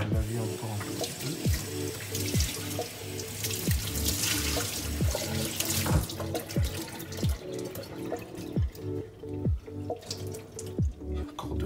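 Running tap water splashes steadily into a sink while food is rinsed by hand for a minced-meat quesadilla recipe, close and moderately loud, with drips and light clinks and no talk.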